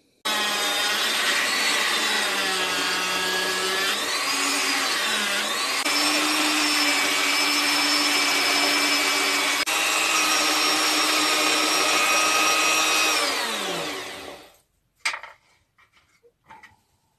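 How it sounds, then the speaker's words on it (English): A piece of wood being cut, then shaped with a Dremel sander; a loud, continuous high-pitched whine that shifts in pitch under load and winds down, followed by a few brief knocks and rustles. "cutting a piece off the same bit of wood. And then we're going to use the Dremel sander just to make it a bit of shape on it"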